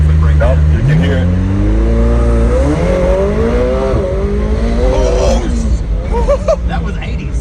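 A 2020 McLaren 720S accelerates hard, its loud engine note rising steadily in pitch through the gears from inside the cabin, with people talking and exclaiming over it.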